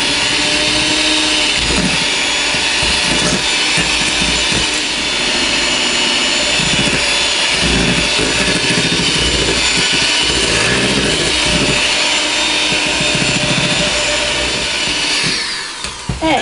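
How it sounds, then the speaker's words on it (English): Electric hand mixer beating eggs one at a time into creamed butter and sugar for a pound cake, a steady loud whirring motor drone running continuously throughout without speech. "I'm going to add 6 eggs. And I'm going to beat after each egg"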